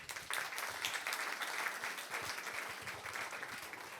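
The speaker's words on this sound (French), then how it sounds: "Merci de l'applaudir." Audience applause at a business leaders' conference in Avignon, a steady, dense wash of clapping from a seated crowd that carries evenly through the whole stretch without voices.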